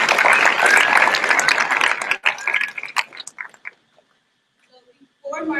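Audience applause at a youth conference opening ceremony at UCLA, welcoming a speaker. A loud, dense burst of clapping thins into scattered claps and stops, and voices start again at the end.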